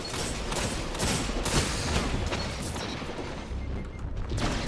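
Sustained gunfire from a 4v4 video game scrim, a dense rattle of shots and impacts running continuously at steady loudness, with no talk over it.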